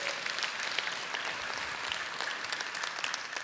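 An audience applauds at a business talk, a steady, dense wash of clapping from many hands that holds evenly throughout without any voices.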